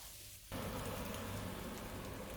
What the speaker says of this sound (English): Now we're adding the ginger and garlic, which has been all minced up. So that goes in with the onions.